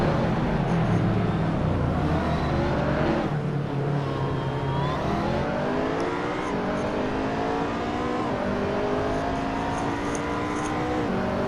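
A Ferrari in a Hot Wheels racing video game drones steadily, its engine pitch sliding up and down as it revs and shifts, loud and continuous throughout with no talk.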